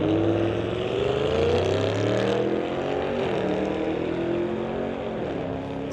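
A Ford Mustang launches down a drag strip at a street-legal race, its engine roaring loudly with rising, shifting pitch as it accelerates, joined by overlapping engine tones that climb again near the end.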